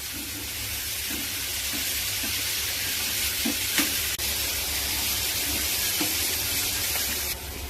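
Large tomatoes frying in a pan, a steady loud sizzle with occasional soft stirring taps and scrapes, no voices.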